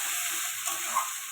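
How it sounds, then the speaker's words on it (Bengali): Ginger and garlic fry in a pan as the base for a chicken and potato curry, a steady close hiss and sizzle running evenly throughout with a couple of small pops. "আদা রসুনটা ভালো করে কষিয়ে নেব।"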